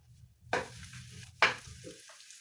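Red onion hits hot cooking oil in a pan for a creamy white sauce pasta, two loud bursts of sizzling as pieces drop in, each fading to a quieter crackle between stirs.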